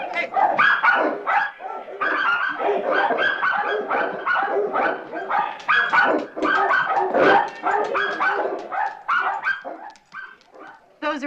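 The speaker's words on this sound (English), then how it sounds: "Those are our dogs." Several dogs bark, yip and whimper close by in rapid, overlapping bursts that continue throughout, while people talk over the noise.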